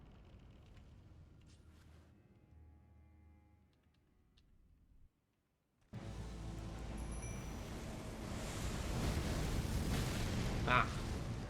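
A loud explosion in the video game Elden Ring bursts in after a brief silence and becomes a dense, sustained roar of game effects, with a sharp crack near the end.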